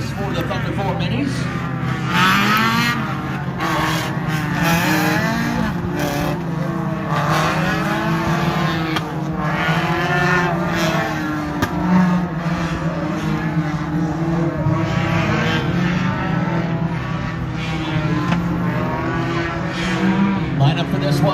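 Thunder 4 Mini stock cars race a heat at Wiscasset Speedway, their engines roaring continuously and loudly with rising and falling revs, while a voice speaks over the racing noise.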